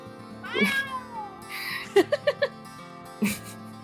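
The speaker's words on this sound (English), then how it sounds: "There's a cat that yells indifferently." A cat yowls in drawn-out, rising cries followed by a string of short, sharp meows, close and fairly loud against a quiet background.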